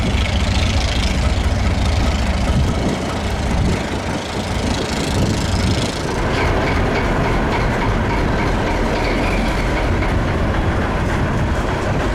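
Museum locomotive number 1 rolls slowly through a switch move, its engine droning loudly and close with steady clanking and rumbling of the railcars.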